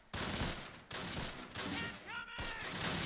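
Sustained gunfire and explosions rage in the WWII strategy game Close Combat: Last Stand Arnhem, with bursts of shots and heavy thuds layered into a constant battle din, faint voices mixed beneath.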